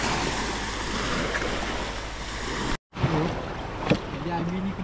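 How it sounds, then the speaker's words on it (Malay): Sea water sloshing and wind around an inflatable boat being shifted away from the sandy shore, a steady washing roar broken by a brief cut, with a faint knock and some low voices in the background. "Jadi IB ni kena pindah ke tengah"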